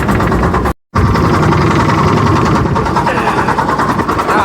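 A boat engine on a river trip near Honnavar runs loudly and close, with a rough, vibrating idle that is briefly cut off near the start and then carries on steadily.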